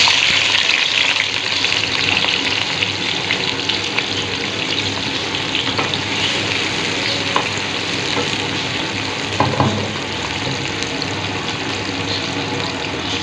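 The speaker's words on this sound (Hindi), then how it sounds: "ऑयल हमारा गर्म हो चुका है। अब हम इसमें डालेंगे प्याज" Onions dropped into hot oil in a pan for palak gosht, producing a loud, dense, continuous sizzle with faint occasional stirring clicks, close up and steady throughout.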